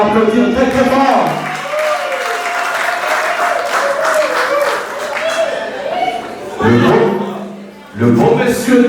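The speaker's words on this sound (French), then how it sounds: "Est-ce que nous pouvons encore l'applaudir très très fort?" Wedding guests give the groom loud, sustained applause from a large crowd, with scattered chatter and laughter mixed in and a voice speaking over the clapping.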